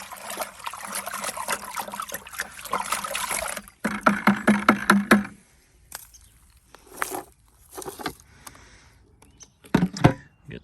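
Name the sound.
stirring fly trap liquid in a 5 gallon bucket with a stick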